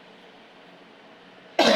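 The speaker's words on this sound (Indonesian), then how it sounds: "batuk." After a stretch of low background hiss, one sudden loud cough bursts out close at hand right at the end.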